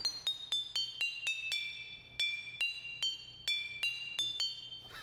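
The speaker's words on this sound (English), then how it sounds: "So the glass is vibrating, the amount of water changes the pitch." Glass bottles partly filled with water are tapped one after another like a xylophone, giving about fifteen bright, ringing clinks at varying pitches, each note sustaining briefly before the next strike.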